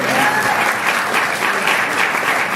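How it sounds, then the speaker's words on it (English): Dense, steady applause from an audience at a family celebration, loud and continuous throughout with no pauses. "Let's have a round of applause"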